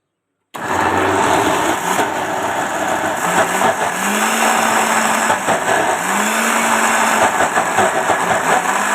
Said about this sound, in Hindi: अब इसको ग्राइंडर में डाल के अच्छे से